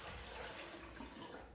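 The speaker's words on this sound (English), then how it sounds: "then I pour it into the coffee maker" Water is poured into a Mr. Coffee coffee maker, a faint, steady trickling splash that runs continuously without a break.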